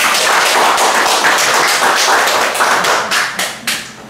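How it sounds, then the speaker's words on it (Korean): Gallery visitors at an artist talk in a Busan photo gallery break into full, loud applause that holds steady and then thins into a few last scattered claps. "이때 박수 한번 나오죠."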